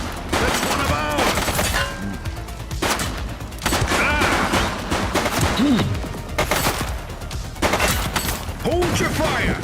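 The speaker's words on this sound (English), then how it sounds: "She's shooting!" Repeated bursts of gunfire ring out in The Precinct crime video game, a rapid, loud fusillade of cracking shots in clustered volleys, with shouting voices mixed in between the shots.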